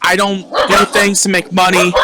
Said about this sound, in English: I want to apologize for my dog was barking